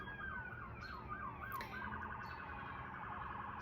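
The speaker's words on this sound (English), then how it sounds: "Sirens." Distant wailing sirens rising and falling, fairly faint and continuous, with a second siren pattern overlapping as it goes on.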